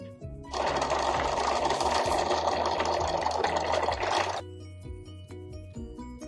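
A Cricut cutting machine cuts premium vinyl with a loud, steady mechanical whirring and buzzing for about four seconds, then drops to a quieter motor hum.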